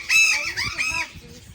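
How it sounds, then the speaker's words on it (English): Budgies in an aviary at a tropical bird park give a short burst of bright, warbling chirps and chatters, close and clear, easing off toward the end. "Budgie."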